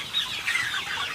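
Several laying hens cluck and chatter close by, overlapping soft calls in a busy, continuous murmur with no talking.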